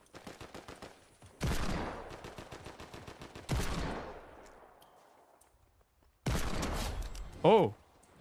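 Rapid automatic gunfire in the Fortnite video game, several sharp bursts of fast repeated shots with decaying tails separated by quiet gaps, some close and loud, some farther off, with a voice speaking between them.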